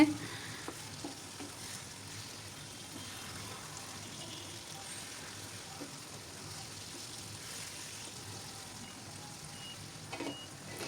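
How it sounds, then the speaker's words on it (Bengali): Chicken kosha cooking in a pan, a soft continuous sizzle of the simmering curry with intermittent scraping as a spatula stirs it, fairly quiet and without talk. "আবার কিছুক্ষণ ঢেকে রান্না করেছি আর নেড়ে ছেড়ে দিচ্ছি"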